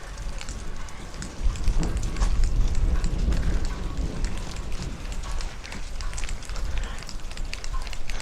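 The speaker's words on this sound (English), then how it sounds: "I think I got a video of the rain." Steady rain falls outdoors as a dense close hiss with scattered drop taps and some wind rumble on the microphone, continuous and without talk.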